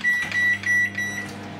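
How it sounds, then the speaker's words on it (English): A microwave oven hums steadily with a bright, high electronic tone, running alone and fairly close for a couple of seconds. "stick it in the microwave for 2 minutes"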